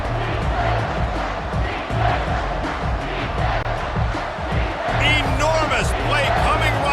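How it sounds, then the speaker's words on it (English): Loud stadium crowd roaring and cheering continuously in a college football video game during a tense third down, with an announcer's commentary over the top. "Third down, and this crowd is bringing down the house."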